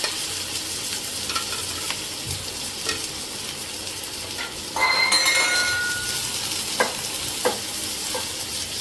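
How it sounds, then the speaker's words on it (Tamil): Two large onions sizzle steadily in a pan while a spoon stirs them, scraping and clinking against the metal now and then, with the frying hiss growing louder partway through; no one speaks. "நல்ல வெங்காயம் வதக்கிக்கோங்க."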